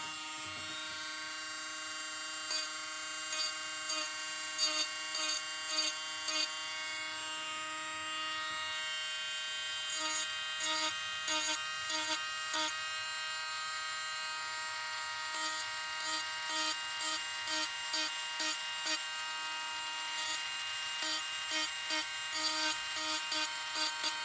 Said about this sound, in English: so my Dremel tool. And it looks like that tip.